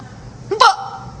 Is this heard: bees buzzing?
no